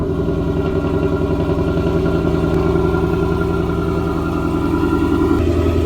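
Supercharged Roush Ford Mustang S650 engine running steadily after a cold start, a loud, continuous close-up drone with a throbbing low rumble and a slight clatter, no talk over it.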